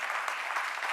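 A hall audience at a women's day celebration of a Tamil association in Delhi applauds, giving a dense, steady wash of clapping throughout.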